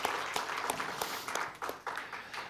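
Sustained applause from a church congregation cheering on middle and high school youth at a special revival meeting, a dense, steady clapping filling the room with faint voices mixed in.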